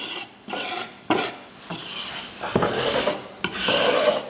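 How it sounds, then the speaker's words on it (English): A knife edge scrapes flour off a kitchen worktop in repeated close, raspy strokes, each a short gritty scrape separated by brief pauses. "I'm just using the edge to kind of scrape off the worktop."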